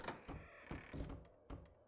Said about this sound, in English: Always a good idea to close doors behind you.